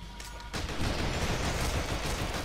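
Gunfire in the video game Marvel Ultimate Alliance breaks out suddenly after a quiet moment and continues as a dense, sustained volley of shots at steady loudness.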